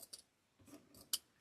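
Scissors cutting ribbon on a table during a St. Patrick's Day kit craft, a few faint, sharp snips spaced irregularly in a quiet room.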